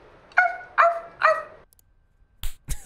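A voice in the Telling Lies video game imitates a dog, giving three short, sharp barks in a quick row. Two dull thuds follow after a pause.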